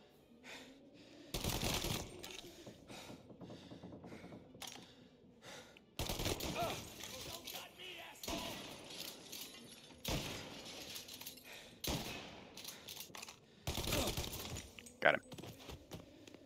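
Shotgun blasts go off in a Mafia bank robbery shootout, loud booming shots that come in separate bursts with glass shattering among them. Quieter stretches fall between the volleys.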